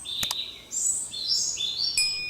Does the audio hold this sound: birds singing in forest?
yes